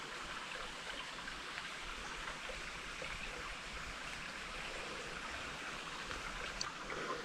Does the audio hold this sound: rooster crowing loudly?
no